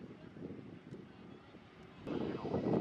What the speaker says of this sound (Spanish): Este avión de American Airlines es algo más nuevo. Boeing 787 del vuelo Dallas-Santiago.